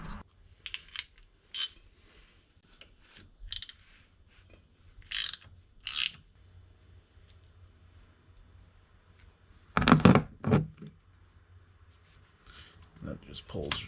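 A hand ratchet loosening a 13mm axle shaft nut on a Ford F-150, in short bursts of close, crisp clicking separated by pauses, with brief metallic clinks.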